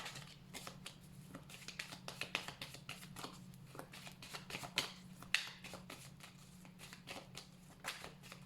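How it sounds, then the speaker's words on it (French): Oracle cards are shuffled and drawn by hand, making quick, soft, papery riffles and flicks in a rapid, uneven patter with a few sharper snaps, close and quiet over a low background hum. "je vais prendre quelques cartes avec l'oracle lumière pour voir ce qu'il a à nous dire"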